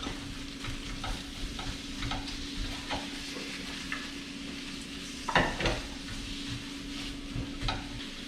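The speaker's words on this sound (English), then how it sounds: "toss those onions so that everything is nice and coated in the oil and the butter" Onions being tossed and frying in oil and butter, a steady soft sizzle with scattered stirring scrapes and one louder clatter of the pan midway.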